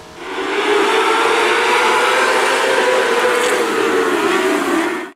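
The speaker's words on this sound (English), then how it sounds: "So this is what a TQ midget is supposed to sound like." Real TQ midget race car engine at steady high revs, a continuous loud, buzzing drone throughout, with no talk.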